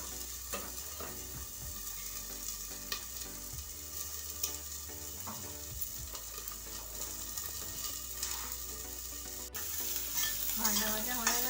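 Samosa filling fries in a pan with a steady, close crackling sizzle, broken by repeated scraping strokes of stirring and no voices.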